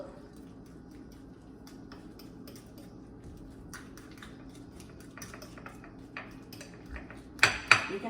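Deviled egg filling being mixed in a bowl, soft scraping and light utensil taps against the dish over a quiet hum, ending in a couple of louder clinks.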